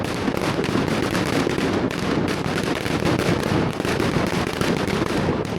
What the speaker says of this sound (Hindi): आतिशबाजी और म्यूजिक से ये रात यादगार बन जाती है।